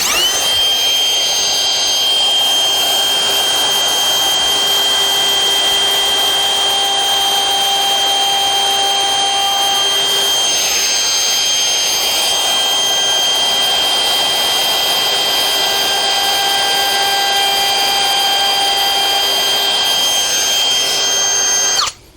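A woodworking router whines loudly and continuously as it plunges holes into the corners of a freehand-carved straight line, its high steady tones wavering slightly for over twenty seconds before cutting off abruptly.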